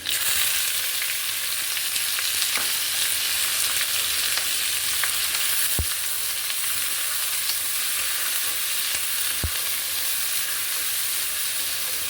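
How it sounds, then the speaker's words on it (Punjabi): Cumin seeds and chopped onion fry in hot oil for an arbi dish, a loud, continuous close-up sizzle and crackle with occasional faint clinks and no speech. "ਤੇਲ ਜਿਹੜਾ ਆਪਣਾ ਬਹੁਤ ਚੰਗੀ ਤਰ੍ਹਾਂ ਨਾਲ ਗਰਮ ਹੋ ਗਿਆ ਸਭ ਤੋਂ ਪਹਿਲਾਂ ਆਪਾਂ ਪਾਵਾਂਗੇ ਇਹਦੇ ਵਿੱਚ ਜੀਰਾ ਉਸ ਤੋਂ ਬਾਅਦ ਜਿਹੜਾ ਆਪਾਂ ਪਿਆਜ਼ ਕੱਟਿਆ ਹੋਇਆ ਉਹ ਪਾ ਦਾਂਗੇ"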